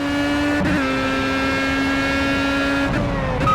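A race car engine in the Project CARS racing game at the Barcelona circuit drones at high, steady revs with a few quick gear shifts, loud and close from the cockpit.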